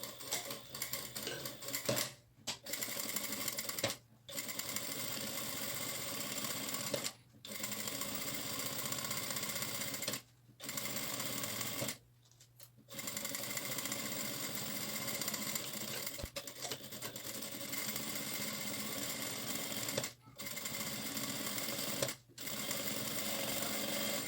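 A sewing machine stitches base lines on a satin and tulle pouch in long, steady whirring runs. Several short pauses break the runs, and the machine starts again each time.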